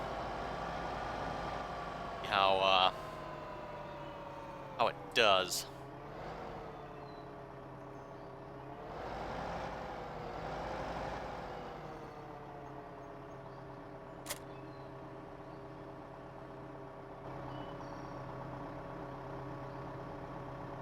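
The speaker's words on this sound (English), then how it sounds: "Fire up our economical engine here." A tractor engine in the video game Farming Simulator 15 runs as a steady, droning hum with a gentle swell partway through. A few sharp clicks and a short spoken phrase are heard over it.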